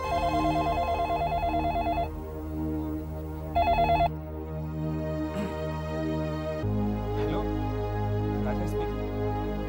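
A telephone rings in two short bursts of electronic trilling, separated by a pause, with other indoor sounds and a soft hum continuing afterward.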